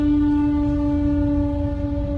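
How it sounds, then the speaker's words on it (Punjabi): A loud, sustained train horn blares steadily, a single droning tone over a low rumble, close and dominant. "ਟ੍ਰੇਨ ਆ ਗਈ"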